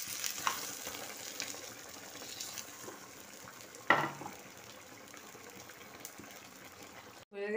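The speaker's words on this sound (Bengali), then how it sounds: "মাংসটা ভালো করে বেশ ভাজা ভাজা রোস্ট হয়ে গেছে" Chicken pieces for Afghani chicken frying in a pan, a steady soft sizzle running throughout with a sharp louder burst near the middle as something is stirred or added, then a brief cut-off at the end.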